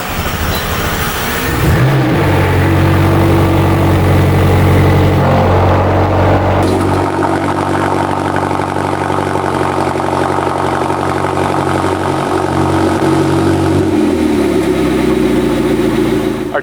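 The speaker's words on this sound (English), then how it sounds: "My favorite feature here is the sports exhaust" A 2020 McLaren GT with its sports exhaust, loud and close. A deep rumbling rev swells over the first seconds, then settles into a steady, throaty idle that carries on with small fluctuations to the end.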